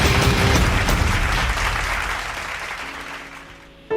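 A congregation claps during a Tamil-language late-night church Bible study, a loud burst of applause that gradually fades over a few seconds before a voice cuts in.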